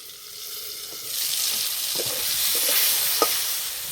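Green tomatoes fry in a pan for a mashed tomato side dish, a loud continuous hiss of oil that swells midway, with a few faint scrapes and taps of a utensil.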